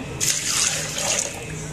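Water pours into a mixer jar over lemon juice with a little salt and sugar, a steady close splashing rush lasting about a second before tapering off.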